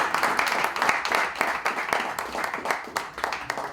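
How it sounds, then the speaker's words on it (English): An audience claps for Tejas Mahajan, a senior national pickleball player, at an NGO sports event: a steady patter of applause from a crowd, moderately distant and fairly soft. "Big round of applause for Tejas Mahajan."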